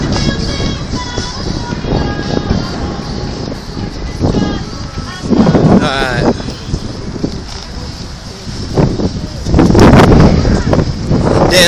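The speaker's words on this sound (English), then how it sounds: "even though it's windy, this breeze feels good as hell" Gusty wind in Las Vegas buffets the microphone throughout with broad rumbling noise, swelling in stronger bursts near the middle and end, while someone talks over it.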